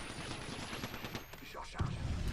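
Gunfire in the battle game Apex Legends, a rapid stream of sharp shots close by with a heavier burst near the end, over layered game sound.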